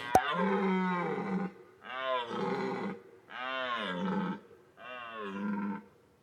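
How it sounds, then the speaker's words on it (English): Four long, tonal bellowing calls from a deer, each drawn out for about a second with short silent gaps between them, loud and clear with no talking. "Over here I have some deer sound."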